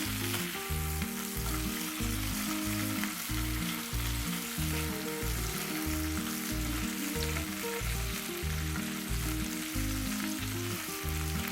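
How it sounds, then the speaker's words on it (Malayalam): Close, constant sizzling of marinated sardines shallow-frying on a hot tawa, a dense hiss that holds steady without pause. "പരട്ടി വെച്ച മീൻ വറുക്കാൻ വേണ്ടിയിട്ട് ഒരു തവ ചൂടാക്കാൻ വെച്ചിട്ടുണ്ട്"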